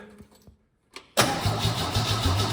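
A vintage car engine, out of gear, is briefly clicked over and cranked a couple of times, then fires and catches into a loud, rough, rhythmic idle close by.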